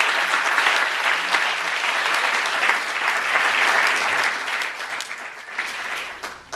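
Sustained audience applause fills a leadership conference hall as a speaker is welcomed, dense and fairly loud clapping that carries on steadily before tapering slightly near the end.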